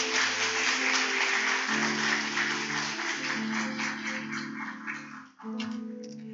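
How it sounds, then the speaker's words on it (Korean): A church congregation at a Sunday afternoon service claps to welcome a pastor. The crowded clapping runs beneath sustained keyboard chords, briefly dips, then resumes. "우리 목사님 나오실 때 박수로 모시겠습니다."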